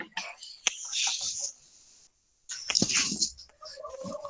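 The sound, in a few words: dogs barking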